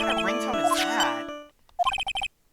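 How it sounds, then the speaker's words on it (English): Phone ringtone heard while Phoenix Wright: Trials and Tribulations plays, with a melodic game tune and voices first, then a short run of bright repeated electronic ringing notes after a brief gap. "What kind of ringtone is that?"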